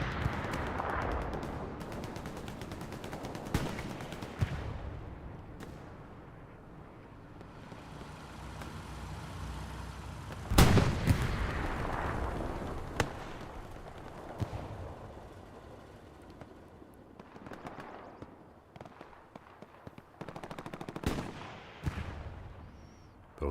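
Artillery fire in the Hell Let Loose video game, with distant booms and sharp blasts going off at irregular intervals over a low rumbling battlefield backdrop, one louder close impact standing out.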